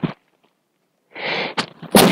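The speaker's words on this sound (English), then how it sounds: "I have a sneeze trying to come." A close, sharp sneeze preceded by a short inhale and followed by another burst of breath.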